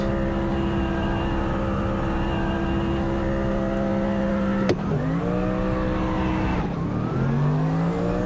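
Lexus race car in the Gran Turismo video game launching hard, a loud continuous engine roar holding steady pitch before sharp upshifts drop the tone and it climbs again, with no talking.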